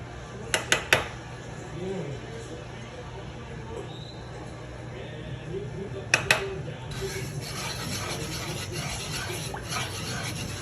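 A spoon scrapes and knocks against a pot as vegetables are stirred into a thick roux for New Orleans gumbo, with a few sharp metallic clinks early on and steady scraping later, while a person speaks nearby.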